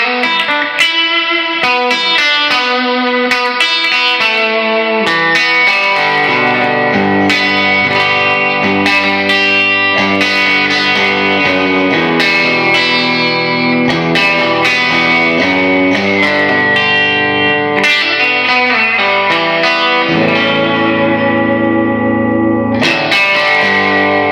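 A distorted electric guitar through a vintage Fender amp plays chords and riffs drenched in heavy, wet reverb, loud and continuous with washing echoes.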